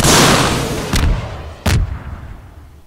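Two sharp, booming gunshots ring out about a second apart over a loud, dense rumble, fired at a tank in the video game Garry's Mod, each blast followed by a short decaying tail.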